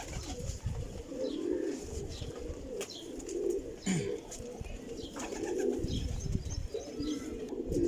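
Cheena pigeons, old-stock flying pigeons, coo softly and repeatedly at a loft, low murmuring calls overlapping in a steady rhythm with faint chirps and rustling in the background.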